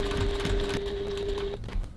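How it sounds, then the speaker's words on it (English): A sewing machine top stitches a crossbody bag at a stitch length of 3.1, a short steady whirring run that stops abruptly, fairly quiet and close. "now I'm just going to top stitch this"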